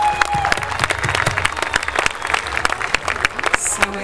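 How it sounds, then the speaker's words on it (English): Audience applause rings out at an outdoor horse show's Chase Me Charlie jumping event, a steady, fairly loud wash of clapping lasting several seconds with a voice talking over it. "can we have a big round of applause for these girls"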